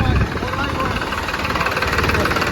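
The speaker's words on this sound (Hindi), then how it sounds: "ये देख सकते हो आप कितना अच्छा प्रदर्शन ये ट्रैक्टर दिखा रहा है" A Pro maxx 47 tractor engine runs steadily while pulling an 11-tine cultivator in a field, a loud, even diesel chugging with a low throbbing rhythm, and someone talks over it.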